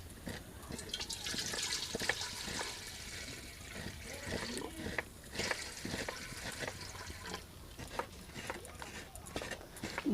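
Water is poured into a pot set on the stove for cooking payesh and pithas, a splashing, trickling flow running steadily for about ten seconds, with a few clatters of kitchenware along the way.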